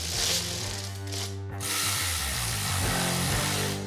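A hand ratchet bolts down an intake manifold on a dual-quad cross-ram engine, rattling in fast, loud, continuous clicking bursts right up close, with no talk.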